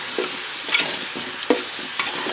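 Yardlong bean (borboti) bhaji fries in a pan, a low steady sizzle punctuated by several distinct scraping stirs spaced about half a second apart, with nobody speaking.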